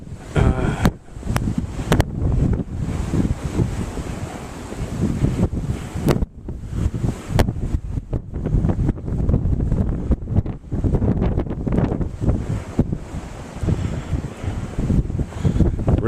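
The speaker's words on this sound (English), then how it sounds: "Winds about 30, gusts to maybe 35." Strong winter storm wind roaring steadily and close against the microphone, with gusts near 30 to 35 mph driving snow; buffeting is continuous for the whole span with no talk.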